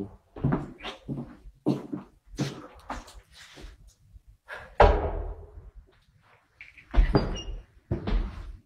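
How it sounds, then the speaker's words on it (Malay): A thick, heavy iron door in an old building, opening and closing with several loud, separate clunks and slams spread through the clip, each sharp and close with short quiet gaps between. "tebal pintu besi."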